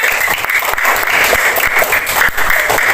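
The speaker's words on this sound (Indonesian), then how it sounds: "Mana tepuk tangannya?" Loud, close applause from a classroom audience of students, continuous dense clapping for a few seconds after two participants finish an activity.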